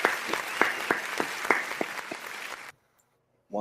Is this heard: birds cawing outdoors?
no